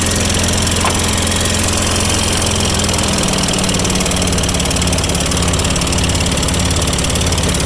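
A gas-powered water pump engine running on bad gas roars loud and close, a steady, throbbing idle with a rough, knocking edge that never lets up.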